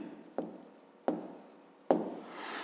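A pen on notebook paper in a fifth-grade maths exercise, three distinct strokes each starting with a sharp scratch that fades into softer scraping, close and quiet with no speech.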